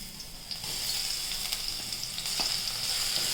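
Garlic frying in hot oil on lowered gas flame, a steady close sizzle with a bright hiss and occasional small pops, stirred throughout with no talk.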